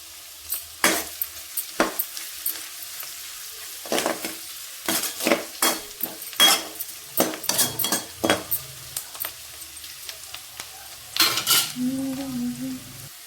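Chopped onion and green chillies fry in a pan while a spoon stirs them, giving a series of sharp, close scraping strokes in uneven bursts over a soft background sizzle.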